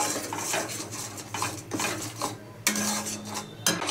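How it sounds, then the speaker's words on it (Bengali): A paste of sour yogurt, cashews and almonds stirred in a pan for a katla fish dish: close, busy metal spoon scrapes and clanks against the pan in repeated strokes, with no voices. "এটাকে ভালো করে কষাবো।"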